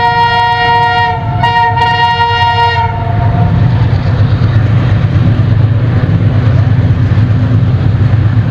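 EMD locomotive number 6009, once a legendary engine, sounds a loud harmonic horn blast for about three seconds over a heavy, continuous rumble of the train passing close by.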